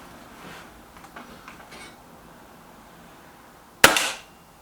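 A single sharp crack from a BSA TS Ultra air rifle firing at a target, loud and close, with a short tail after it, preceded by faint handling noises.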